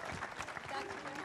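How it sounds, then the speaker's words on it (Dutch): An audience claps for three guests at a village event in Holwert: a dense, steady wash of applause from a crowd, close and unbroken throughout. "Mensen, graag even een applaus voor deze 3 allochtone gasten."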